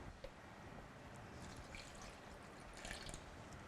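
Water is poured into a NutriBullet blender cup holding blanched kale in a farm kitchen, a faint trickling splash with a few drips, quiet and close.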